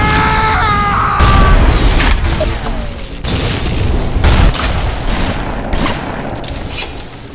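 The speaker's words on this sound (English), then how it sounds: "Oh, he's also shooting through there." Gunfire in the video game BioShock: several loud, booming shots burst out in quick succession over a dense, reverberant game soundscape.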